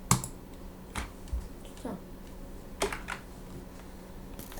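Several scattered, close clicks of computer keys being typed, with a faint voice speaking briefly between them.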